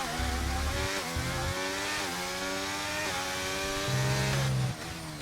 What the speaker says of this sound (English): Alpine engine always sounds so peculiar to me